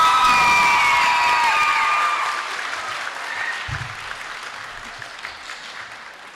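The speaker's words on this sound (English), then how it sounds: "Come on, clap, guys." Crowd applause at a 2023 MS390 middle school moving-up ceremony, with a few cheers and whoops, loud at first and then slowly thinning out.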